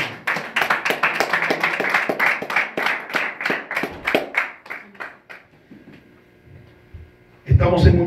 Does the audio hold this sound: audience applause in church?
yes